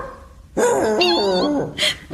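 A puppy character in a Bulgarian children's fairy tale lets out a loud, close whining yelp that rises and wavers for about a second, followed by a short sharp bark, with no talk over it.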